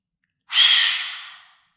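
Lion's breath yoga exhale, a single forceful, breathy whoosh lasting about a second that starts strong and fades out, close and alone in silence.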